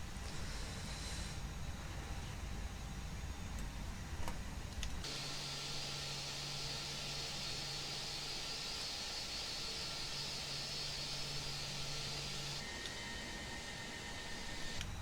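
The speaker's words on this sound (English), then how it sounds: "Start APU." Simulated Airbus A320 auxiliary power unit spinning up in the Prepar3D flight simulator after landing at Genoa: a steady whining turbine hum with a low drone starting partway through, rising and holding at a constant loud level.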